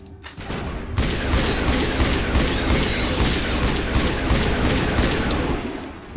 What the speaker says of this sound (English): Throw a grenade in there.